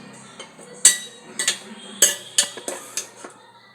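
A ladle scoops boiled papaya out of a hot pot of rice, giving a series of sharp metallic clinks and scrapes at an uneven rhythm, close and fairly quiet.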